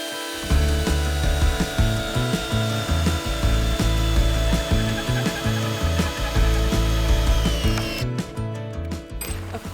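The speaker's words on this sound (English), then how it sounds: "We're just getting the structural screws in around the bottom to hold the whole thing in place." Power tool driving structural screws into the wooden frame of a cabin being built under an old barn, a loud ratcheting, buzzing drive with pulsing repeated clicks that continues for several seconds before stopping, up close, without speech.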